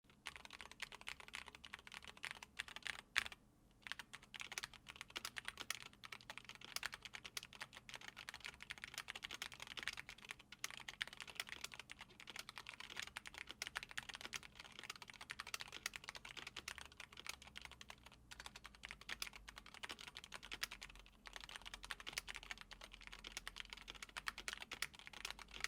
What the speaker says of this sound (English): we'll do a sound test of the linear OmniPoint switches